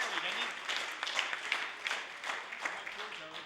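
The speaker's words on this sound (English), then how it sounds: "I wonder if Steve would stand and receive a round of applause." A legislative chamber audience applauds in the House of Assembly to welcome a forest products association guest, producing a steady, moderately distant wash of clapping with faint voices beneath.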